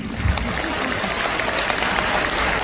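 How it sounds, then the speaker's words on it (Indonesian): Dense, loud applause from an audience at a Valentine's-themed church gathering, a continuous even wash of clapping with no talk over it. "tepuk tangan untuk CFM Kediri ini."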